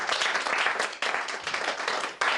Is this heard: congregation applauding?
yes